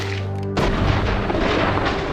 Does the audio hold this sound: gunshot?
yes